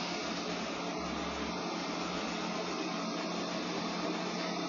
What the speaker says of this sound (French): Donc déjà comme aspirateur, je trouve qu'il est pas très bruyant.